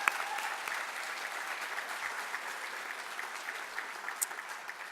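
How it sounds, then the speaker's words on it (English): An audience at an award ceremony applauds steadily, dense clapping from many hands holding at an even level for several seconds, with no voices on top. "You deserve a round of applause."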